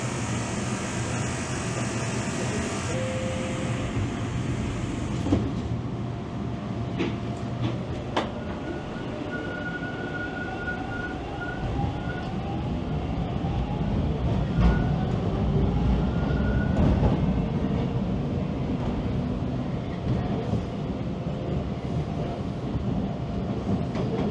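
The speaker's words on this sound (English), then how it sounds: "So once the train starts moving" A Toronto TTC subway train rumbles steadily along the rails, a continuous low roar with faint rhythmic clacks and occasional squeals, no talking.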